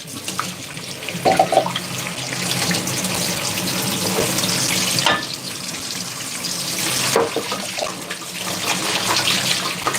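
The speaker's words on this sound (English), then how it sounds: "Rinse it." Water runs steadily from a kitchen tap as carrots are rinsed under the stream, with splashing changes in flow through the clip and no talking.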